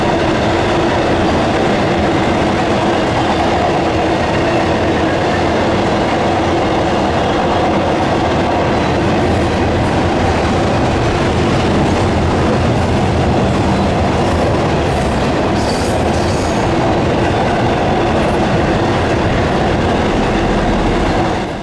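A Florida East Coast Railway freight train rolls steadily past at Spruce Creek, loud and close, with continuous wheel rumble, rhythmic clickety-clack over rail joints and occasional faint squeals throughout.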